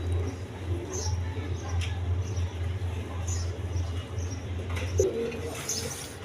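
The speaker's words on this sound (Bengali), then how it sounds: "এখানে এক পেয়ার গররা কবুতর আছে" A pair of Gorra pigeons coo softly in a loft, low repeated rolling calls under a faint background of other birds and light rustling, with no talking over them.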